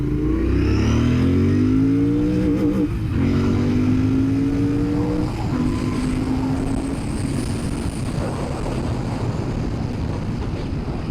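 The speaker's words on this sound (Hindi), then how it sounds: "इतना स्मूथ इंजन है इस बाइक का." A Royal Enfield GT motorcycle engine runs smoothly and steadily, its low rising hum climbing with revs between gear changes amid heavy wind rush, loud and close throughout with no voices.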